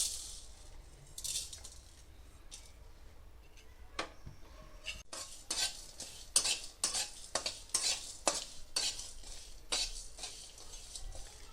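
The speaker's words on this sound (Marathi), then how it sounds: "थोडंसं त्याच्यात जिरं, थोडंसं शहाजिरं, थोडेसे धने, थोडे तीळ आणि थोडीशी खसखस. हे आपल्याला असं हे सगळं थोडं परतून घ्यायचं आहे." Cumin, caraway, coriander, sesame and poppy seeds tossed in a dry pan for Kolhapuri misal, with soft stirring scrapes and a string of sharp clicks and rattles from a utensil against the metal, close and moderately loud.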